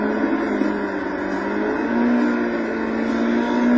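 A GT race car engine from a German GT challenge in the racing game Total Immersion Racing, a loud continuous droning whine held at high revs, its pitch shifting up slightly midway.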